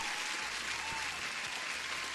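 Applause sound effect played during a live futures-trading stream, a steady dense wash of clapping lasting about two seconds at moderate level, with no voices over it.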